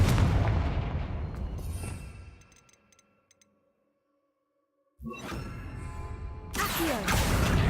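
Confringo explosion spell in Hogwarts Legacy: a loud burst with a whooshing tail fades to near silence, then another blast erupts and is followed by rumbling, crackling debris.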